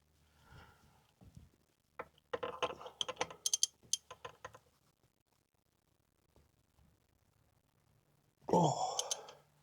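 A ratchet with a 27mm deep socket removing a plug on a 2022+ Subaru WRX (VB) during an IAG air/oil separator install, giving two close bursts of quick clicking separated by a quiet pause.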